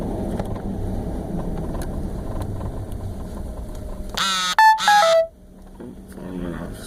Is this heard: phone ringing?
yes